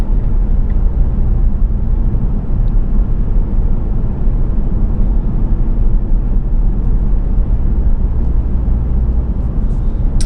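A 2014 Ford Focus Titanium driving with its select shift in use gives a steady, close cabin rumble of engine and road noise throughout, low and broad, with no talking.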